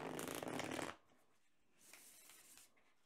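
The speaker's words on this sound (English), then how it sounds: "we're going to shuffle up and see what the cards have to tell us" A deck of tarot cards being shuffled: a loud riffle of just under a second, a short pause, then a softer, longer riffle close by, with no voices.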